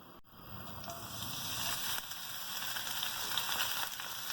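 Onion hits a hot pan of vegetable oil with a sudden hiss, then a steady close sizzle and crackle of frying continues throughout.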